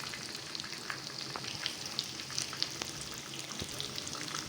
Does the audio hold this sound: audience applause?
no